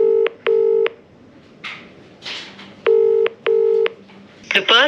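A mobile phone dials a number with a run of clear DTMF keypad tones in two bursts, separated by faint rustling and a brief handling noise, ending with a short electronic chime.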